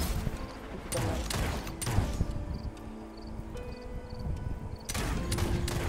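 A big gun firing in the game Real Realms, with a series of loud, sharp blasts spaced irregularly, each followed by a rumbling tail over busy ambient noise.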